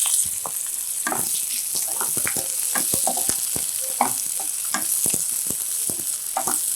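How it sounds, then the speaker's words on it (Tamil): Onions and green chillies sautéing in a pan for a white pea kurma, crackling sizzle with irregular spoon stirring and scraping clicks, close and steady throughout. "இப்போ இது லேசாக வதங்கும் போதே வெங்காயத்தை போட்டுடுங்க"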